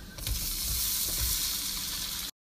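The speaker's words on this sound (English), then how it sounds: "Add the shrimp to our butter and garlic." Shrimp drop into a hot pan of butter and garlic and break into loud, steady crackling sizzle, heard up close for about two seconds before cutting off abruptly.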